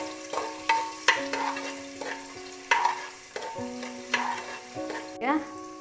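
Ginger and green chillies being sautéed in a pan for kappa biriyani, with repeated stirring scrapes and a soft sizzle up close, alone with no talk.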